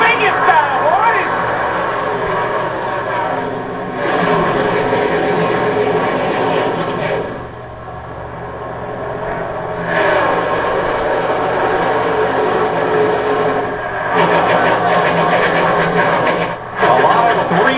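NASCAR stock car engines roar at the start of the 2011 Kobalt Tools 400 in Las Vegas, a dense, steady wall of loud engine noise that continues through the whole stretch with brief dips, with a commentator talking over it.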